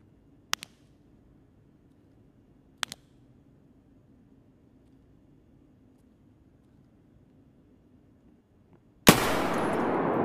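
Two sharp, isolated gunshots from Escape from Tarkov ring out a couple of seconds apart over quiet background, then a loud, sustained broadband burst of noise starts near the end.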